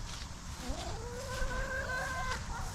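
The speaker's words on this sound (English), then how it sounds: "This is probably the oldest chicken we have." An old show rooster on a farm clucks steadily, the calls rising in a few drawn-out, wavering notes over faint outdoor background noise.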